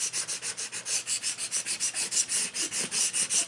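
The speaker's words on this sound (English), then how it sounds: "I'm going to take my little scraper here" A small scraper rubs craft vinyl onto Cricut transfer tape, making quick, even back-and-forth scratchy strokes, roughly five or six a second, close and alone.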